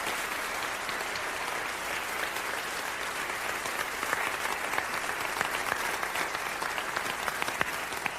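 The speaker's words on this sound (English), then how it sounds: "you should applaud because she deserves that." Sustained applause from a lecture audience fills the whole stretch, a dense, steady wash of many hands clapping at fairly even loudness with no voices over it.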